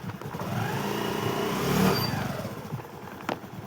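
Vehicle speeding past, its engine note swelling to a loud peak and then fading quickly into the distance.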